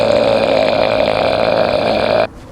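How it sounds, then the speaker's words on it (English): A loud, long burp lets out close to someone's ear during a prank, a single drawn-out guttural tone that cuts off abruptly. "I'm going to be burping in people's ear"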